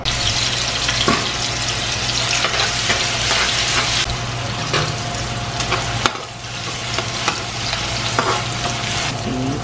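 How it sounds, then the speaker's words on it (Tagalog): Shredded Meat Magic sautéing in a pan, a loud continuous sizzle with repeated scraping and stirring clatter from a utensil, a short pause partway through, close and without talking. "Igigisa na natin siya kasi si-season para magkaroon siyang lasa."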